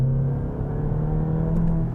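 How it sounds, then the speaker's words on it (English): A 2022 Volkswagen Jetta GLI sport sedan's engine and exhaust drone steadily under acceleration, a loud, even hum with a rising note from the back, no voices heard. "you do hear a little bit more exhaust noise out of the back"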